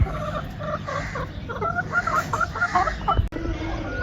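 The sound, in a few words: chickens and roosters clucking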